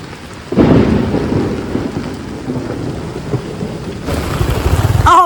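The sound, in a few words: heavy rain with thunder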